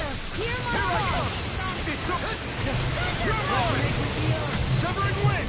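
Rushing, splashy water magic attack in a fantasy video game, a broad continuous wash of surf-like noise lasting several seconds, layered with whooshing swirls and battle effects, while a character's voice calls out over it.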